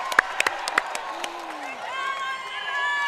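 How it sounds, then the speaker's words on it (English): A few sharp claps ring out early, then a crowd murmurs and cheers steadily in a large hall during a women's college basketball game. "Should we clap? I think we should clap."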